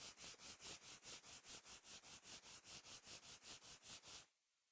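Wood is hand sanded in steady, rhythmic back-and-forth strokes, about four per second, close and fairly loud, before the scraping stops abruptly.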